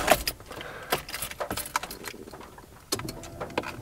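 Keys on a ring jangle in sharp, irregular clinks as they are pushed into the ignition of a JDM Subaru, close and clear with short pauses between bursts.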